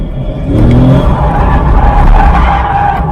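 A C6 Corvette drifts, loud sustained tire skidding and squeal layered over a roaring engine, close and continuous for the whole stretch.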